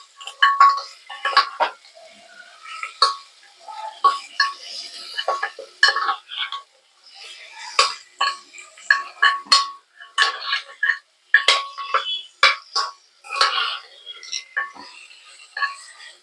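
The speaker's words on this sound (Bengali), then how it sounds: "ভালো করে একটু কষিয়ে নেবেন।" Beetroot being sautéed in a pan, heard as repeated clinks and scrapes of a utensil stirring against metal, irregular and fairly close, with faint background sound.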